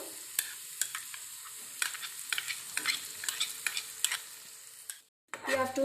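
Onion with a chili and tomato mixture sautéing in a pan, a steady soft sizzle broken by repeated scraping stirs of a spoon, close by, with a brief silent gap near the end.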